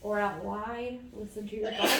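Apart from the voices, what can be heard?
sneeze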